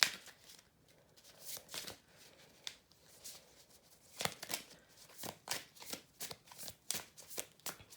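Riffling and shuffling of a tarot deck close up, a run of soft, crisp card flutters and taps that grow busier toward the end, with no talking.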